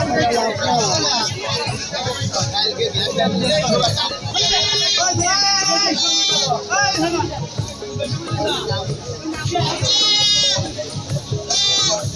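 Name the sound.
goats bleating at a livestock market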